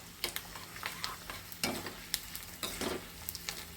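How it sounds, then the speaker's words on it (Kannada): Edible gum fries and puffs in hot ghee as a spoon stirs it, giving a steady sizzle broken by repeated scraping stir strokes, close and clear with no talk. "ತುಪ್ಪದಲ್ಲಿ ಕರೆದು ಚೆನ್ನಾಗಿ ಅರಳಿದರೆ ಮಾತ್ರ ಅದು ಅಂಟು ಚೆನ್ನಾಗೋದು"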